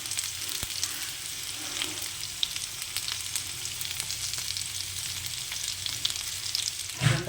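Okra (lady finger) slices frying in a pan with salt and masala, a steady dense sizzle throughout, close and fairly loud, with a brief clatter near the start and a stir toward the end.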